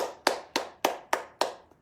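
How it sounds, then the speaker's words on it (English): Five evenly spaced, crisp slaps of light clapping on the arm, from armpit to inner wrist, each sharp and close with a short decay, followed by a faint final tap, and no talking. "From the armpit, down the arm, inner wrist, light, easy, clear clapping"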